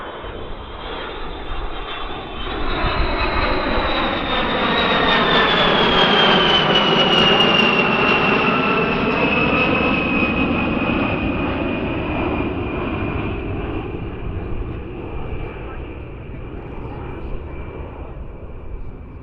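A jet aircraft roars past during a flying display at the Farnborough International Air Show, its loud, sustained engine noise swelling and then slowly fading with a sweeping pitch shift as it passes overhead.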